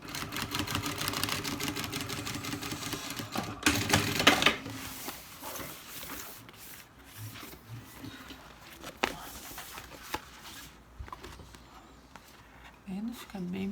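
A sewing machine runs in bursts while stitching a beach bag, its rapid mechanical chatter loudest early on and then falling to quieter, intermittent whirring, with someone talking over it.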